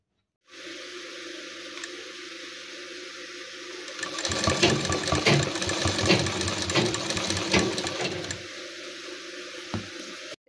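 Sewing machine double-stitching a seam on a nightie, a fast, rattling mechanical whir that runs about four seconds between stretches of quiet background hum, with a single small knock afterward.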